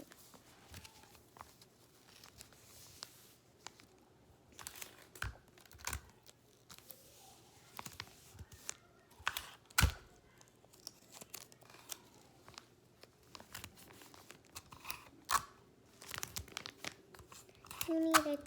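Close, quiet crinkling and tearing of tape being pulled and pressed onto a small handmade suit for a stuffed toy, irregular rips and rustles spread over the stretch, with faint background hum.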